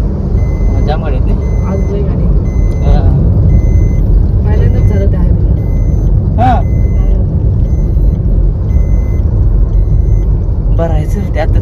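A car drives along under a steady, loud low rumble, with voices talking over it and a few short beeps near the end.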